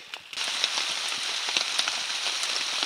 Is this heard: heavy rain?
yes